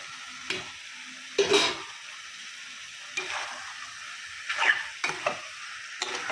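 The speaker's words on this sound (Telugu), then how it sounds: "అన్నీ కలిపి వేగేస్తాయి." Cucumber with broad beans and vegetables for a tomato curry fry in a pan, a soft sizzle under occasional scraping stirs of a spoon that come in brief bursts, fairly faint with quiet gaps.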